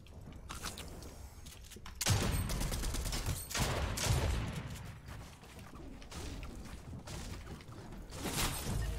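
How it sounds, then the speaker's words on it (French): Gunfire in a Fortnite match, with repeated sharp shots and bursts spread across the clip, some loud and close and others more distant, and no talking over them. "Mais je me suis pris une balle de snipe."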